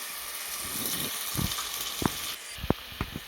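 Onions and green chillies sizzle softly in hot oil for a chana dal mutton curry, a low steady crackle broken by a few sharp clinks and knocks of a utensil against the pan.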